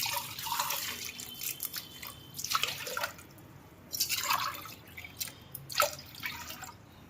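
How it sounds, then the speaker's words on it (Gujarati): Water poured into a pressure cooker holding toor and moong dal, roughly half a litre for boiling, comes in several separate splashy, trickling bursts, close and fairly quiet, with no talking. "અડધો લીટર જેવું પાણી નાખીએ છીએ"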